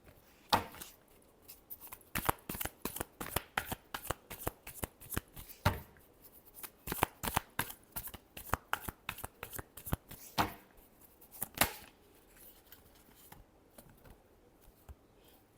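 Tarot cards are shuffled by hand up close, a rapid series of crisp riffling flicks and slaps in irregular bursts, with brief pauses between them and no talk.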